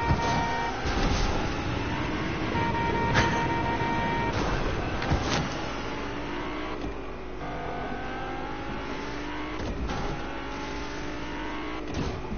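A taxi-style car driving in Fortnite, with a steady engine drone that rises and shifts in pitch as it accelerates, plus occasional horn-like tones, moderately loud with no talk.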